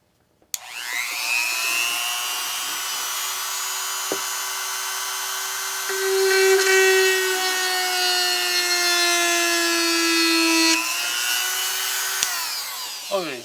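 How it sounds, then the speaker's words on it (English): A DEKO rotary tool runs at high speed as its kit drill bit presses into hard oak, a loud steady whine with a pitch that dips under load, starting abruptly and cutting off near the end. "Can't even drill a hole, even though this is oak and hard as can be."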